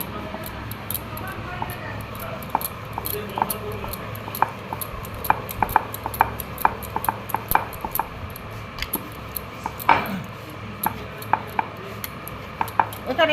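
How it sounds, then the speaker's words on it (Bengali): Paratha dough is rolled out on a rolling board in a home kitchen, giving soft repeated knocks and light clattering taps at an uneven rhythm, with a voice talking intermittently. "এখানে আমি পরোটাটা বেলে নেব"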